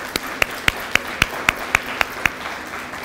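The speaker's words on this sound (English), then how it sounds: "So give yourselves a round of applause" An audience at a school Blue Ribbon celebration claps in a steady, evenly spaced rhythm, about nine sharp claps in three seconds, echoing in a large room.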